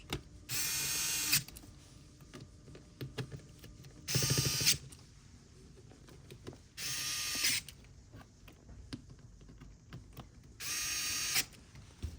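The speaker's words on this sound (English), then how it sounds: "Now you'll go ahead and tighten the screws." Screws being tightened during a Xerox 78xx fuser rebuild, heard as four separate bursts of bright ratcheting, each about half a second to a second long, with quiet gaps between them and no talking.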